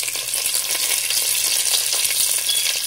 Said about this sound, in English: fry cinnamon well. And we add the curry leaves at the end.